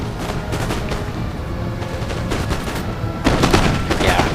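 Massed musket fire of troops in Empire: Total War, a continuous crackle of overlapping volleys with scattered louder shots and a denser swell near the end, loud and unbroken, no talk.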